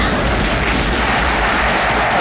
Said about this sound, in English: I hear gunfire off in the distance